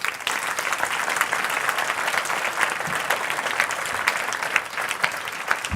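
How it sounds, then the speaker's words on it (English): An audience gives dense, sustained applause with a light cheer mixed in, loud and even throughout, after an entrepreneurship talk. "One more round of applause."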